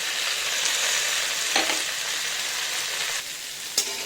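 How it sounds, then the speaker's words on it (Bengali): Vegetables frying with salt and turmeric: a loud, continuous sizzle that fills the whole span, broken by a couple of brief utensil scrapes as the mixture is stirred, with no voices. "এই যে একটু নেড়ে চেড়ে নিলাম, তারপর ঢেকে দেবো।"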